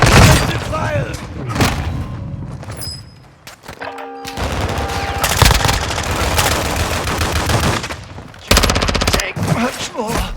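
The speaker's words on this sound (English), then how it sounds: "Taking effective fire!" Heavy gunfire from a shooter video game during a zone-control match, with dense bursts of shots and booms running through most of the stretch, one brief quieter lull, and talk and game voices layered over it.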